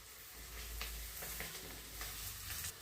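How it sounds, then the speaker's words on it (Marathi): Coriander hits sizzling tempering oil for a moong-dal sandge and papad amti, giving a steady close frying hiss with a few soft stirring scrapes and small pops, no voices. "थोडी मी फोडणीत कोथिंबीर घालणार आहे"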